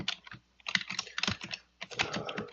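Typing on a computer keyboard, a quiet run of rapid, irregular key clicks with short gaps, close and alone without speech.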